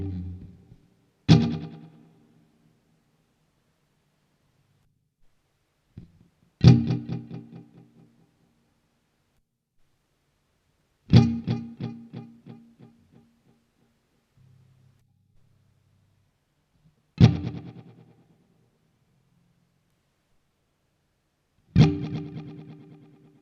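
A Stratocaster played through an Echofix EF-X2 tape echo, cycling through its delay modes: five loud plucked chords spaced several seconds apart, each trailing off in repeating echo patterns into near silence.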